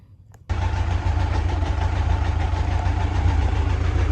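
A Kawasaki Concours motorcycle that had sat unused, with rebuilt carburetors, cranks and fires up abruptly, then settles into a loud, steady, close-up idle.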